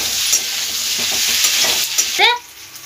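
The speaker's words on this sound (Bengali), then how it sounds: "এবার পেঁয়াজ দিয়ে দিলাম আর ক্যাপসিকাম একসঙ্গে দিয়ে" Onion and capsicum fry together in a hot pan for jackfruit manchurian, a steady broadband sizzle with spatula scrapes and stirring knocks throughout, close and loud, then a brief bright clink near the end before the frying settles.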